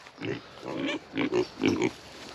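Hungry farm pigs on a homestead grunt at feeding time, giving three or four short, close oinking grunts in quick succession over a soft background.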